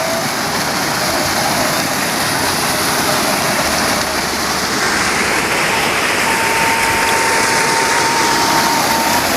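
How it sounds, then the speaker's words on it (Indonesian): Waterfall of clear water beside rice fields, a dense, steady rushing hiss filling the whole stretch, close and constant, with a faint voice in the background. "Curugna lumayan bagusnya. Airnya jernih."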